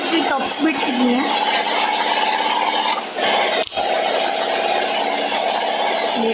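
A Lamborghini in a car simulator game accelerates toward top speed, its engine a steady, loud, continuous drone with a brief dip partway through, while someone talks over it.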